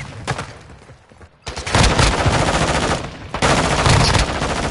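Video game gunfire, dense rapid bursts of automatic shots that pause briefly, then resume loud and sustained, with a second short gap before firing continues.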